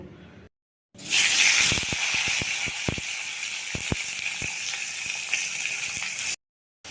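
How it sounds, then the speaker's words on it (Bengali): Dried red chillies and five-spice seeds sizzle in hot oil in a kadai for a vegetable curry. A loud, steady frying hiss starts abruptly and runs for about five seconds, with scattered sharp pops and crackles and no voices. "এদিকে দেখো গরম করে শুকনো লঙ্কা 5 ফোড়ন দিয়ে তরকারিটা করব"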